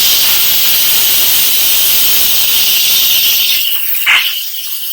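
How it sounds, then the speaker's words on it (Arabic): Electric pressure cooker venting steam through its release valve while cooking a lamb and quince kibbeh stew, a loud steady hiss that runs continuously, then tapers and cuts off near the end with a brief sputter. "هلا بننفسها، بس اتبعوا التعليمات والارشادات تبع التنفيس تبع طنجرة البخار هاي الكهرباء"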